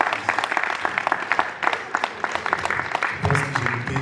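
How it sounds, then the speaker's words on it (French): A festival audience at the Carré d'Afrique event in Château-Gontier claps steadily and densely throughout, with a brief murmur of voices rising near the end. "on peut les applaudir."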